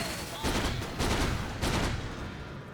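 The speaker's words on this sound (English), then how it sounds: "Flak Cannon is such a ridiculous spell with this talent." Flak Cannon spell in a Dota 2 match firing in three rapid bursts of cannon-like blasts, loud and close, with faint commentary voices underneath.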